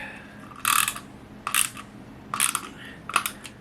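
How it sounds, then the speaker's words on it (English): Screws being driven back into a headlight housing on a 2015 Silverado, four short bursts of ratcheting, grinding clicks separated by brief pauses, close and fairly quiet. "I'm going to go ahead and start screwing these screws back into this."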